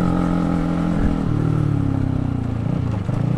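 A Honda CBR 150R K45A motorcycle climbing a hill at low revs, its exhaust giving a steady close-up drone that dips briefly and then settles into a throbbing, slightly rising pull with light mechanical clatter.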